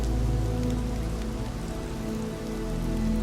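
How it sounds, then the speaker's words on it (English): Steady rain falling on an early spring day, a dense, even hiss of drops on surfaces with a low continuous rumble beneath, unbroken for the whole stretch with no voices. "the early spring skies were dark and rainy"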